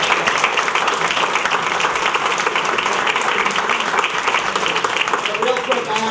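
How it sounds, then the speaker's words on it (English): An audience at a chamber award dinner applauds steadily and fairly loudly for several seconds, a dense continuous clapping with voices mixed in. "he deserves a big round of applause."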